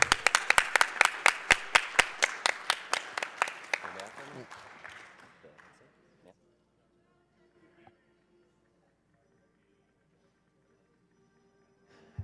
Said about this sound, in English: can we get get an applause for these guys?